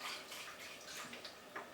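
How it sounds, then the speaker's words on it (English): Water is poured into a rock tumbler barrel already holding rocks and pellets, filling it just above the rock level, giving a soft, steady close-up splash and trickle that is fairly quiet and continuous. "And I'm going to fill it with water."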